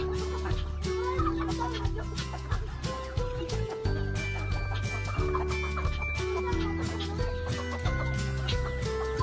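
White Basilan chickens, young roosters in a backyard flock, cluck and call continuously in a dense, busy chorus with no talk over them.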